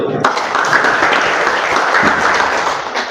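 A classroom of students applauds together on a teacher's cue, a dense, steady patter of many hands that runs the whole few seconds at close range, with young voices mixed in.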